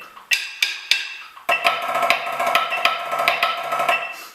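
A drumline snare plays a measure with accents, flams and rolls: a few sharp, evenly spaced strikes, then a dense, buzzing roll texture punctuated by louder accented hits. It is close and fairly loud, with no talking.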